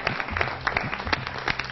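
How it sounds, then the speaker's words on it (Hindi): A studio audience applauds with steady, dense clapping that fills the whole moment. "आपके लिए भी जोरदार तालियां।"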